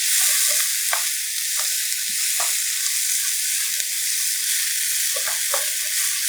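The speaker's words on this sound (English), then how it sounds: "add some onions. So you fry together." Onions fry in a pan with browned ingredients for Korean black bean noodles, giving a steady, loud sizzle throughout. A few brief stirring scrapes cut through at irregular moments.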